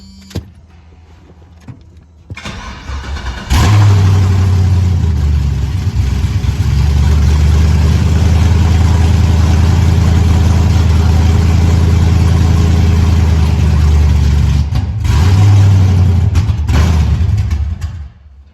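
A 1986 Monte Carlo engine cold-starts after a few seconds of quiet clicks, catching with a loud surge into a steady, rough, deep idle that holds close and constant, with a brief dip near the end.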